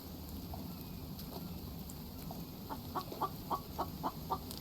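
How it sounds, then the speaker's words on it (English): In the survival game The Infected, a chicken clucks in a quick run of soft, evenly spaced clucks near the end, faint against a low hiss of rain-like ambience, with no talking. "I'm trying to get some chicken."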